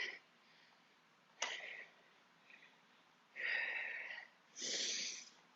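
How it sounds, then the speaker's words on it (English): Slow, breathy exhales during a calming breathing exercise on an indoor cycling ride, three or four long airy breaths separated by quiet pauses, close and soft with no talking. "Let these exhales do the work of calming your body."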